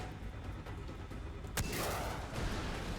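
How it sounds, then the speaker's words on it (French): Gunfire in the shooter game Far Cry 3, a burst of machine gun shots with a sharp loud crack partway through, followed by sustained rattling fire over a steady background. "Une mitrailleuse."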